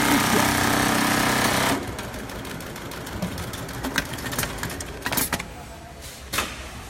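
Sewing machine stitching a second reinforcing seam on Dickson awning fabric, a loud fast mechanical whirr that runs for under two seconds and cuts off, leaving quiet handling clatter.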